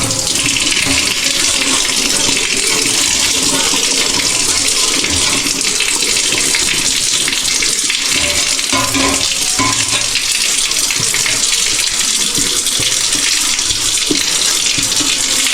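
A milk pot is washed under a running water tap on a farm, the water gushing loud and steady throughout with small splashing shifts as the pot is moved, and no voices.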